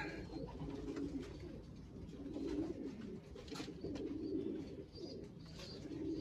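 Pigeons or doves coo softly in a low, repeated murmur, faint and steady against a quiet background.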